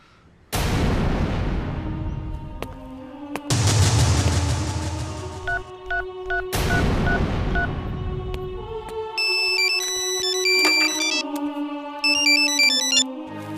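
In a Bhojpuri feature film, a phone rings with an electronic melodic ringtone of bright, repeating beeps. It comes after a few heavy dramatic booming hits and grows busier toward the end.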